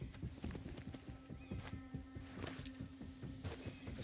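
Horse hooves clip-clop in a quick, uneven rhythm in the video game Assassin's Creed Mirage, with a neigh carried over them, faint and close.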